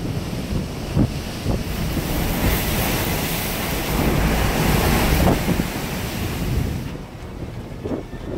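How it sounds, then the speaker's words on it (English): Heavy ocean surf crashes and roars continuously against Montevideo, Uruguay, with gusting wind buffeting the microphone. "Massive waves smashing into Montevideo, Uruguay."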